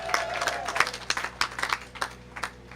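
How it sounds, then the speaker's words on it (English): Applause for community volunteers at a park build day: a scattered burst of hand clapping from a modest outdoor crowd, moderately loud with a voice faintly underneath. "Give them a big round of applause."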